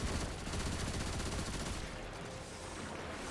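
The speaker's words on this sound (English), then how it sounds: "A lot of rockets." Rockets fire in a fast dense barrage in the Destiny video game, a continuous roar of launches and blasts that thins out after a couple of seconds, heard at moderate level without voices.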